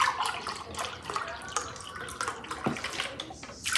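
Beef bone broth being poured while cooking, a close, gurgling liquid pour with uneven splashes and bubbling that runs continuously, fairly quiet.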